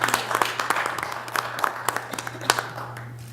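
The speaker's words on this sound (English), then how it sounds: "A round of applause." Scattered, thin applause from a small audience at a school board meeting follows the presentation of a service certificate, with sparse claps over a steady low hum in the room.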